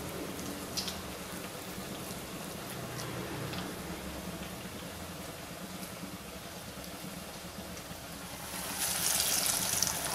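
Parippu vada, a lentil fritter, sizzles in hot oil with a steady, fine hiss of bubbling and small crackles, fairly soft and even, swelling louder near the end, with no talking.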